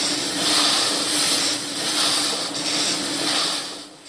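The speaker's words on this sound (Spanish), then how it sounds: "Pero su sonido llena el Museo de Motores Antiguos en Vista, California" A vintage piston aircraft engine runs at a museum of antique engines in Vista, California, giving a loud, steady roar with slow pulsing surges and a bright hiss, then easing off at the end.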